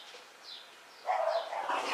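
A dog barks faintly at a distance, a few soft yips and barks rising briefly over quiet room noise.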